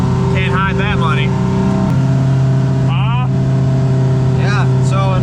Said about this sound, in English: It is pretty loud in here when you're, I mean, we're only going 5 miles an hour. And it's kind of yelling